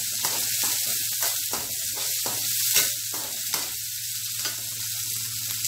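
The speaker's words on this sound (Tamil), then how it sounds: "ரெண்டு பச்சை மிளகாய், நாலு பல்லு பூண்டு குட்டி குட்டியாக அரிஞ்சு வச்சுருக்கேன், நாலு பல்லு எல்லாத்தையும் போட்டு வதக்கிடுங்க" Chopped green chilies and garlic cloves sautéing in a hot pan, a steady bright sizzle running throughout with a low hum beneath and occasional stirring scrapes, close and continuous, no talking.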